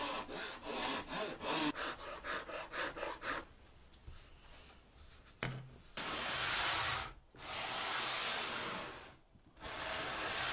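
A flame maple guitar fretboard is being sanded to a 12-inch radius, with rhythmic back-and-forth rasping strokes up close, then longer continuous sanding passes broken by brief pauses.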